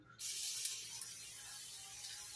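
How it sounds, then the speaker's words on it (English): A sharp hiss of cooking spray sprayed into a baking mold bursts on abruptly and continues steadily, close by, tapering slightly toward the end. "take your mold and spray with some cooking spray"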